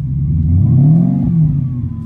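A car engine revs up steadily to about 2000–3000 rpm and then settles back, a low, smooth drone heard up close with no talking.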